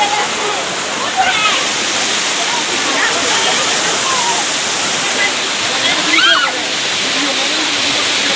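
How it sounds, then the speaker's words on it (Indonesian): The Binghu waterfall in Karbi Anglong pours down in a loud, constant rush of white water, with faint voices heard now and then beneath it. "this is the first step of Binghu waterfall"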